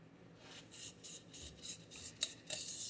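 Quiet, rhythmic rubbing and rasping as a surface around the seal face of an NP205 adapter is roughed up, repeated strokes at close range with a couple of sharper scrapes near the end.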